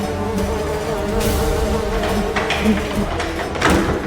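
Bees buzzing in a steady, close, droning hum in a TV drama scene, with other noises cutting in over the drone.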